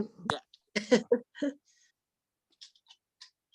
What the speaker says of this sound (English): I totally just coughed, didn't realize my mic was on.